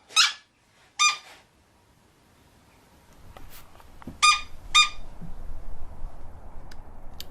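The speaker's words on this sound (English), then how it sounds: "if Lyra stops squeaking her toy." A dog squeaks a squeaky toy in sharp, high, close bursts: two early, then a pair a few seconds later, over a faint, rising background rumble.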